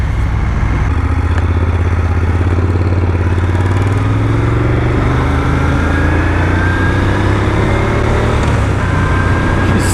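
A Moto Guzzi Griso 1200 motorcycle engine while riding, a steady low rumbling drone with rising and falling pitch as it accelerates and shifts, mixed with constant wind rush throughout.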